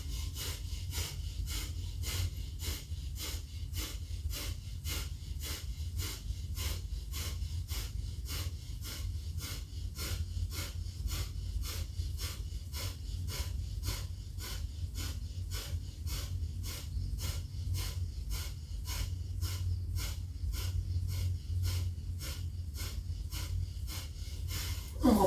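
Forceful bhastrika breathing during a yoga vinyasa session: rapid, evenly spaced bellows-like breaths pumping in a steady rhythm for a long stretch, loud and close, with no talk.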